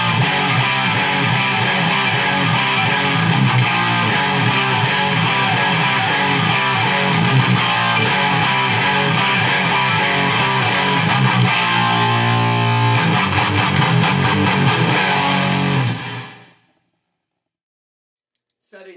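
Heavily distorted electric guitar, a PRS Custom 24 through a Quilter MicroPro Mach 2 amp on lead voicing, playing loud, dense chords and riffs for about fifteen seconds, then cutting off into silence.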